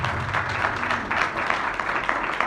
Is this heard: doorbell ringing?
no